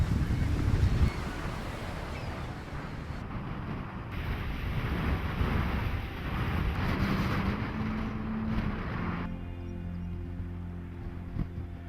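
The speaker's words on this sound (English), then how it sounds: "The wind is always present in these islands." Strong wind buffets the microphone in heavy, roaring gusts in the Faroe Islands, with a low rumble of open water and waves underneath.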